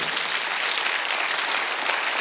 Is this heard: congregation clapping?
yes